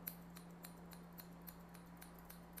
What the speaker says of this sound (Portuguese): Você pode usar também a tesoura batida, como eu estou fazendo aqui, técnica de tesoura batida.